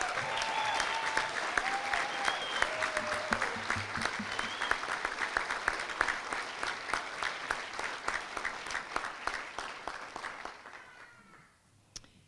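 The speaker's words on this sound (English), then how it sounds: "please join me in a warm ovation for MCAD's Bachelor of Science graduates" Audience at a college commencement ceremony applauding Bachelor of Science graduates, sustained dense clapping with a few whoops early on, holding strong for about ten seconds before tapering off toward the end.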